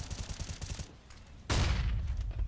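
Rapid Counter-Strike gunfire at a pro match, SK versus G2 at DreamHack Masters Malmö 2017: a steady rattling volley, a brief lull, then a heavy loud blast of shots and explosion-like roar.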